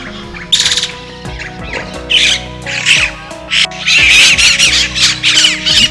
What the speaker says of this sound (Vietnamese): Các tổ lớn là nhà của chim Kasuke với bản lông vàng rực rỡ trên lưng,